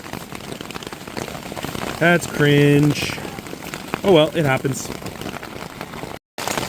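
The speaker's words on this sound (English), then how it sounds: "No, that's hail falling." Hail pelting down during a mountain backcountry storm in Canada, a steady dense rattle on surfaces that continues throughout, with a person talking briefly over it partway through.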